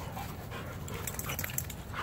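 A dog pants steadily and quickly at close range, short rhythmic breaths outdoors in the wilderness, with no talk.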